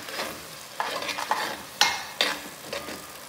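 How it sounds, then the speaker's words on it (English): Onion fries in oil in a pan for Jamaican ackee and saltfish, a soft sizzle broken by several sharp stirring scrapes in uneven bursts, close up, with no voices. "I am frying the onion so the onion in the oil will taste really good."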